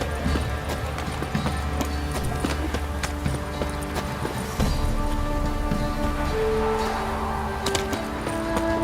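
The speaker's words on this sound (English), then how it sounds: "Run, Roach. Not so fast, Roach." Hoofbeats of a galloping horse in The Witcher 3, a steady rapid clip-clop under dense game music and ambience, with a brief voice over it.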